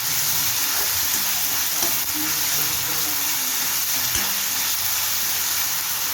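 Vegetables for pav bhaji sautéing in a pan until soft, a steady broadband sizzle running continuously and fairly loud, with a few faint scraping knocks of a spoon.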